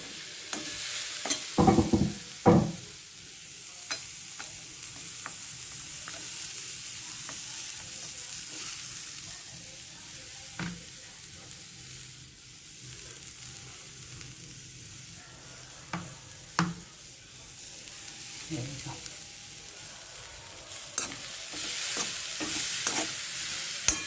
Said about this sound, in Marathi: खोबरं ना थोडंसं भाजून घ्यायचं